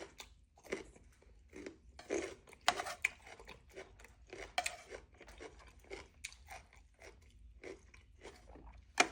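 Crunchy baby carrots being chewed close up, with rapid, irregular crisp crunches and bites that repeat steadily and at a low level throughout.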